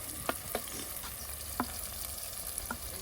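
Spicy chicken sausage sizzles and fries in a pot over an outdoor fire, with a spoon scraping and stirring it in a few sharp, irregular clinks above a steady crackling hiss.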